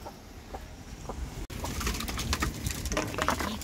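Hungry racing pigeons coo and flutter in a loft at feeding time, soft overlapping calls and rustling wingbeats close by with a brief dropout partway through.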